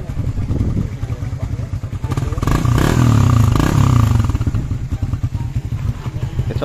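Honda Raider 150 Fi motorcycle engine with a stock exhaust pipe running nearby, a steady low idle rumble that swells into a louder rev in the middle before settling back, with voices talking over it.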